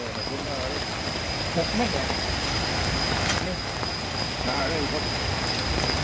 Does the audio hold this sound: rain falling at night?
yes